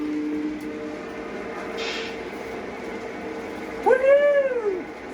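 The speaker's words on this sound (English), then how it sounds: "that engine should honk at me." Horn on a PRR E7A model train locomotive sounding once, close and clear, after a quiet stretch with a faint steady hum and a short hiss.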